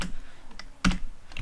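A few quick keystrokes on a computer keyboard, typing Control D, come as brief close clicks with a slightly louder press in the middle, alone without any talk.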